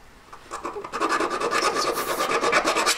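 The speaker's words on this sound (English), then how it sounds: "So I'm filing around it now." A hand file rasps in quick, regular strokes around the stones of a three-stone metal ring, a close, dry rubbing that grows louder after a soft start.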